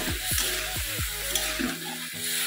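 Water poured into a pan of soybean curry being fried, several gurgling splashes with harmonic tones, then a softer steady sizzle and bubble near the mic.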